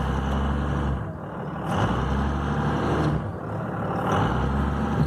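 A vehicle engine runs in the cold with a loud, steady low rumble, dipping briefly twice and revving back up, close by with no talking.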